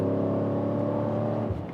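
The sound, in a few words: Mercedes E55 AMG engine revving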